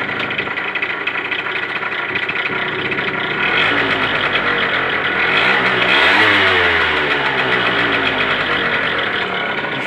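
A Peugeot Ludix scooter engine runs close by at a buzzy idle. Partway through, the revs swell briefly before settling back into a steady idle.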